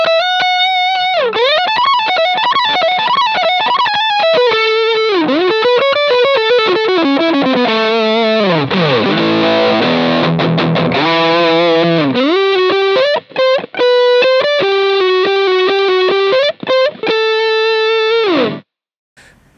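Overdriven electric guitar through a Sinvertek Drive N5 plus distortion pedal with its Top End switch at P1, a loud solo passage of sustained bent notes and quick runs, clean and alone before stopping abruptly.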